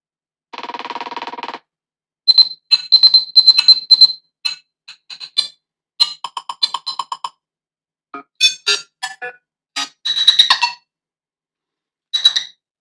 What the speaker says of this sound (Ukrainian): Ви відкриваєте налаштування телефону, і тут є 10 мелодій дзвоника.